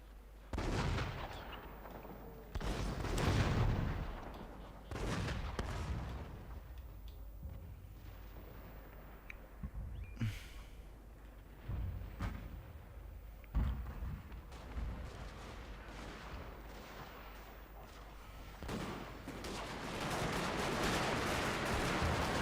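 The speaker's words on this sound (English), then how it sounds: "Unleashing the rifle fire, the fury." Battlefield sounds from the video game Shogun II: Fall of the Samurai, with rifle volleys and cannon fire booming in dense, repeated bursts, loud and rumbling throughout, with sharper cracks standing out among the sustained din.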